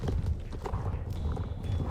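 Horse hooves clip-clopping in the Star Stable Online video game, a steady, close rhythm of muffled footfalls under a continuous low rumble, with a faint high tone partway through.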